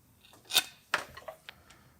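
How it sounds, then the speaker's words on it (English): Cable cutters snip through a power steering hose on a Biscayne, with two sharp broadband cuts close up and several smaller clicks and snaps after them, in a quiet space. "So once again, use the cable cutters."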